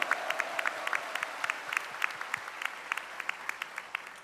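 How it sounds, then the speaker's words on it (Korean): A church congregation at a summer camp worship service applauds together, a dense, steady clapping from a sizable crowd that holds at an even level throughout, with no voices over it. "아버지 하나님께 모든 감사와 영광의 박수 올려드립니다"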